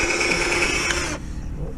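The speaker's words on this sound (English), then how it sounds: "He's using a smaller drill because it was too big." A smaller drill whirring steadily for about a second while boring a hole during fuel pump work on a bus, then cutting off abruptly, leaving a quieter background.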